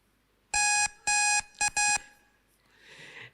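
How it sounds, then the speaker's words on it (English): Electronic alarm-style beeps mark the end of presentation time at a science camp pitching session: two long loud tones, then a short one and another long one, crisp and close, followed by faint room noise. "And next, you will hear a beep sound."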